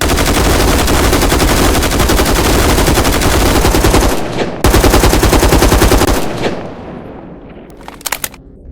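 Sustained automatic fire of 5.56 standard FMJ rounds at a shield, heard as loud, rapid, continuous bursts that break off briefly, resume, and then trail into a few scattered final shots and echoes, with no talk.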